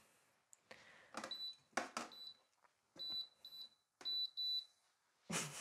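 Gel nail curing lamp giving a series of short electronic beeps in several bursts, fairly faint, with handling noises and taps between them.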